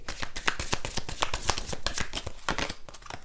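Tarot cards shuffled and drawn by hand, a quick run of crisp riffling flicks and soft slaps at close range, steady and unbroken throughout with no talking.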